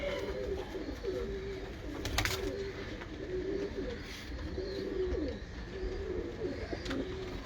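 A breeder pigeon named Sherdil coos close by in a repeated series of soft, low, throaty phrases against a quiet background hum.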